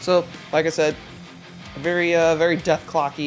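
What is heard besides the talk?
No everyday noises stand out.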